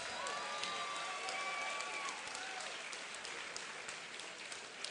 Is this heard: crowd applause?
yes